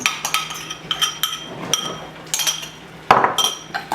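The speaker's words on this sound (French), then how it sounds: "on va mélanger les deux préparations liquides" Two liquid mixtures for gluten-free bread being stirred together in a bowl, with repeated bright clinks and taps of a utensil against the bowl in a quick uneven rhythm, close and clear.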